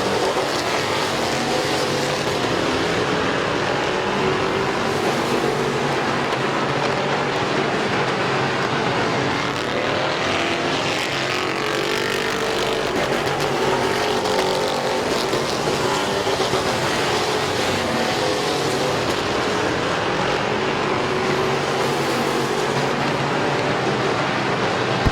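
Race cars roar around the oval at Midvale Speedway in a steady, dense engine drone that holds loud and continuous for the whole stretch, with no voices over it.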